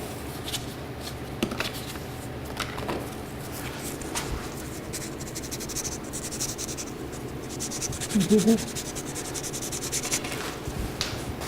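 Soft, uneven rubbing and scraping of 180-grit sandpaper against wood on a turned spindle, a close steady hand-sanding texture with a few brief louder thumps.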